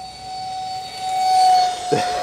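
A fan-powered RC Mario Kart toy runs at full throttle with a steady, high electric whine that swells and holds, then a short bump as it shifts near the end.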